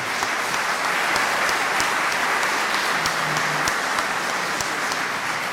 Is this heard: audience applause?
yes